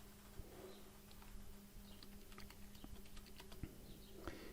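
Soft, quiet keystrokes tapping irregularly on a computer keyboard, faint and close against a low steady hum, with no voices.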